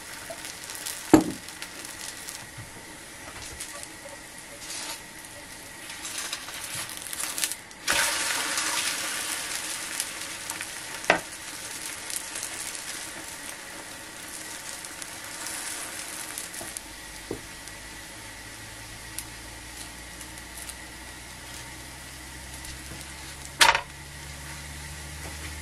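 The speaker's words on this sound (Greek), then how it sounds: "Το αφήνετε να τηγανιστεί καλά." A pie fries in oil in a pan with a steady close sizzle, with occasional sharp clicks and clatters over the frying and no talking.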